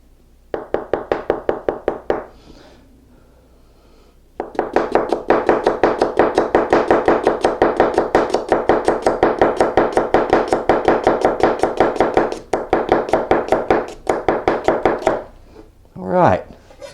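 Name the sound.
knife slicing shallot on a cutting board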